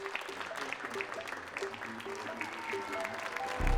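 A film-set crowd claps steadily in sustained applause, a dense patter of hands that swells slightly toward the end.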